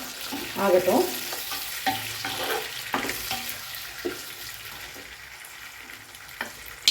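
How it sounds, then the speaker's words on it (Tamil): Onions deep frying in oil in a pan for chicken biryani, a soft continuous sizzle with occasional stirring clinks and scrapes, fairly quiet and close. "இந்த ஆனியன் நல்லா நமக்கு டீப்பாக ஃப்ரை ஆகட்டும்."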